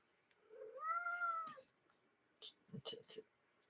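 A cat meows in a drawn-out rising and falling call, followed by a few short, sharper meows after a pause.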